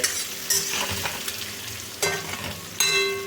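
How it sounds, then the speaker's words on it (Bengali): Potatoes for a chhana dalna are stirred and fried in a pan: a brief, close, steady sizzle with a few distinct spatula scrapes and knocks against the metal, and no talking. "এবার আলুটা একটু নেড়ে নিয়ে ঢাকা দিয়ে দেবো"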